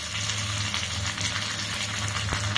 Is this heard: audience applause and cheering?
no